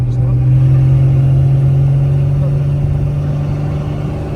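Turbo diesel car with a Mercedes OM603 engine and an oversized turbo running without a wastegate, pulling hard under full throttle; a loud, steady engine drone holds close and even, easing slightly toward the end, with voices faintly present.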